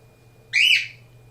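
A bird gives a single sharp, loud whistle lasting about a quarter second, bright and close against a quiet indoor background with a low electrical hum.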